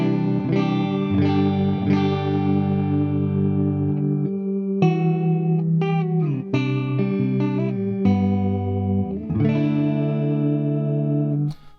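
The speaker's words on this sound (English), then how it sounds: "So I'm assuming they've used the possibly reverb and chorus, yeah, to simulate a Leslie amp, a Leslie speaker" An electric guitar plays through an ML Sound Lab Friedman amp plugin on a Leslie clean preset with chorus and reverb, giving sustained shimmering chords and single notes that ring out and decay, with no talking.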